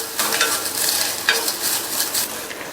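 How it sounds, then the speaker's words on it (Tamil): Grated coconut sautés in melted ghee in a pan, giving a dense, close, continuous sizzle with bursts of scraping as it is stirred. "அதுல 1/4 கப் தேங்காய் துருவலை சேர்த்துட்டு இந்த நெய்லயே நல்லா வதக்கி விட்டுக்கலாம்"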